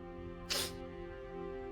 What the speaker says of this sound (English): Henny sneezed.